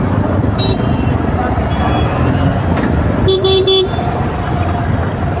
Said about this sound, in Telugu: ఫుల్ ట్రాఫిక్ ఉంది ఇప్పుడైతే.